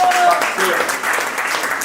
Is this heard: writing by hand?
no